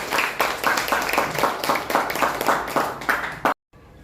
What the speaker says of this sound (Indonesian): Kasih aplaus buat Ibu Nunung.